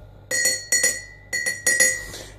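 A spoon stirring tea in a cup, clinking against the sides in four bright, closely spaced pairs of taps, quiet and near.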